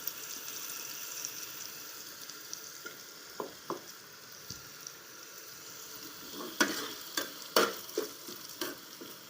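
Paneer and peas sauté in oil in a pan, a soft continuous sizzle broken by sharp scraping and clinking strokes of a spatula, growing busier toward the end.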